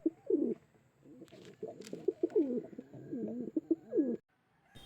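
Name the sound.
pigeons cooing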